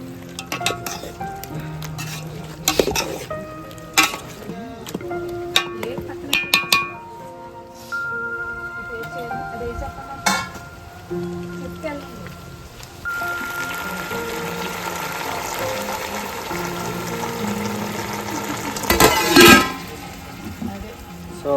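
Tomatoes tipped into a pan of cooked chicken on a wood-fired stove at a farmhouse, making chicken pulao: clinks and stirring scrapes, then a rising sizzle of frying, with voices talking intermittently.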